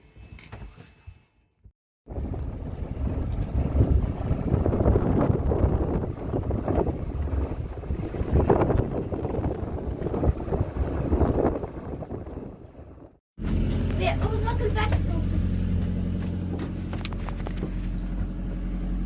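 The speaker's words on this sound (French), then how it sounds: "Loïc démarre le moteur pour qu'on recharge les batteries" Sailboat engine running to recharge the batteries during a cyclone off La Réunion, a steady low droning hum after a brief quiet start, cutting off sharply before a different constant rumble resumes.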